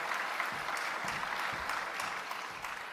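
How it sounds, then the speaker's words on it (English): Delegates at a European data protection authorities conference applaud a panel moderator, a continuous, evenly dense clapping from a large hall audience lasting the whole stretch. "Please applause."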